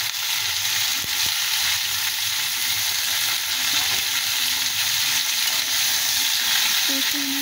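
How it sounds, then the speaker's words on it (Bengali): Taro and potato pieces sauté in hot oil, a continuous loud sizzle with occasional stirring scrapes throughout. "কচি আর আলুকে ভালো করে আমরা কষিয়ে নেব।"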